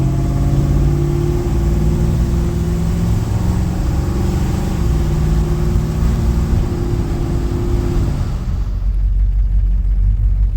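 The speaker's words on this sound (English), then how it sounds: "Where the drone used to be is just all exhaust note now." A deep, steady V8 exhaust rumble from a 1969 Ford F-Series with a 390 cubic inch engine and H-pipe exhaust idles loudly and close for several seconds, then abruptly cuts out near the end.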